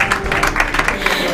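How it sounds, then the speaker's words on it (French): Audience at a Christian professionals' dinner applauding: dense, steady clapping from many hands, fairly close and loud, continuing without pause. "Applaudissez pour vous-même."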